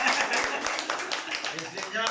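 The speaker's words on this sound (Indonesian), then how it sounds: "tepuk tangan dulu" Audience applause at a welcome speech, a dense patter of clapping that runs steadily through the short stretch alongside a speaking voice.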